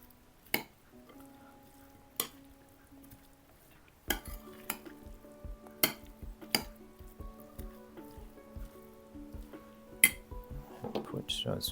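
Salad with feta cheese and black pepper being tossed in a bowl, with intermittent clinks and soft wet squishes of utensils against the dish, fairly quiet and close.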